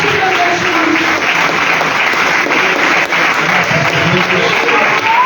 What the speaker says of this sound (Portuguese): Palmas que agradecem o nome de Jesus.